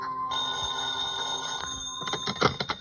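A telephone rings as a sound effect in a classic radio noir mystery drama: a steady, bright electronic trill holds for almost two seconds, then breaks into choppier bursts that fade out.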